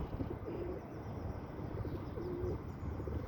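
Pigeons coo a few times, faint and somewhat distant, over a steady broad outdoor hum near a hotel in Fatima, Portugal.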